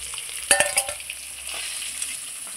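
Pieces of rui fish frying in hot oil in a pan give a steady hiss and crackle, with a short burst of sharper pops and spatters early on before settling back to an even sizzle.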